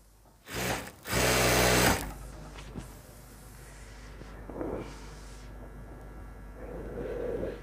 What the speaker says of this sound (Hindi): इसको आखिर तक सिलाई लगा लेते हैं।